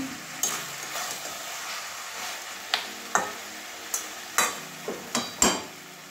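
Fish-head jackfruit curry stirred in a pan, a soft sizzle and fry under a series of sharp clinks and scrapes of the spoon against the pan, coming at irregular intervals with no talking.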